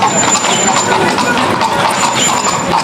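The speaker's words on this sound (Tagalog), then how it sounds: "Uy, ang gaganda mo yung mga kabayo din dito." Horses clip-clopping their hooves on the street near Salzburg Cathedral, a steady patter of hoof strikes under busy outdoor city ambience throughout.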